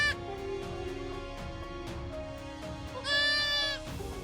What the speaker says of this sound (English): a herd of goats appeared nearby